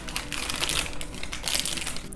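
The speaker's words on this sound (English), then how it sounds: "the first thing that you want to do is to just unwrap your butter" Paper wrapper crinkling as a block of grass-fed butter is unwrapped by hand, close irregular rustles and crackles in bursts with no voice.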